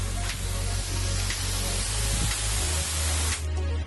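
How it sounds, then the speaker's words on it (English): A Chapin economy garden sprayer nozzle releases a fine conical mist as a steady, close hiss lasting several seconds before cutting off. "It's more of a conical, standard, fine mist."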